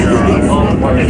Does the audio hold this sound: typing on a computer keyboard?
no